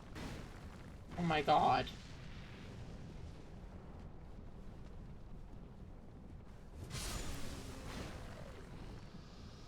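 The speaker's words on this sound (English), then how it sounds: "That's the explosion so powerful it rips the frame rate in half." A huge explosion in Dark Souls 2 lands as a short loud boom, with a second burst several seconds later, under steady game background noise; a person briefly exclaims.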